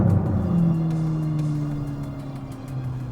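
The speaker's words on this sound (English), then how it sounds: "Losing all the traction right there." Car launching hard on a 0-60 run with the wheels losing traction, a loud close engine drone whose low tones slide steadily through the run, with no talking over it.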